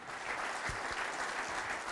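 Crowd applause at an outdoor political rally in Rome, a steady dense wash of clapping filling the whole stretch at a fairly even level, with no speech over it.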